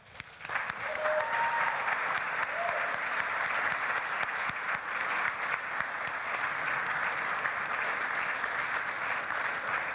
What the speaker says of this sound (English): I'd like you to all give a huge round of applause for